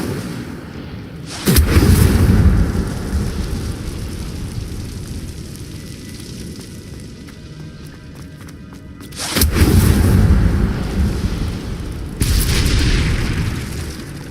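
Incendio fire spells in Hogwarts Legacy blast out as three heavy, roaring booms, each a loud burst that slowly fades into a rumbling wash, with quieter crackling ambience between them and no voices.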